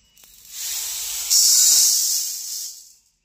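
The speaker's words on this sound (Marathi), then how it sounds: "मूग चांगलं भाजून घेते आधी" Green mung beans sizzle and hiss steadily as they dry-roast in a hot pan, a broad continuous sound that swells after a moment, holds, then fades out.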